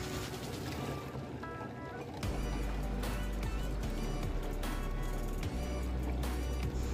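A mixer grinder runs continuously, grinding soaked wheat into a smooth batter, with a loud steady whirring drone that thickens and grows heavier after the first two seconds and carries on without a break.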